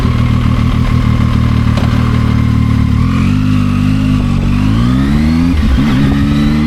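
A Zontes 703F three-cylinder motorcycle engine, loud and close, holds a steady idle and then revs up in a smooth rising sweep before dropping back.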